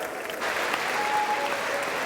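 Lawmakers in the US Congress give South Korean President Yoon Suk Yeol a continuous wash of clapping and cheers at a joint address, steady and full, swelling slightly after the opening moments.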